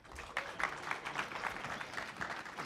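Audience at a NASA social briefing for the SpaceX Demo-1 mission applauding a presenter, a soft, steady patter of many hands clapping heard at some distance, fairly faint.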